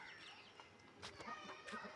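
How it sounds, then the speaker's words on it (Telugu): Chickens cluck faintly as they climb into a leaky shelter during the rainy season; soft, scattered clucks and a few brief calls sound at a moderate distance over quiet background noise. "ఎక్కుతున్నాయి కోళ్ళు కొన్ని"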